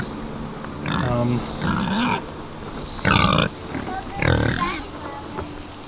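Pigs on a homestead farm, down by their wallows and water barrel, grunt and oink close by in four or five separate throaty bursts with short pauses between them.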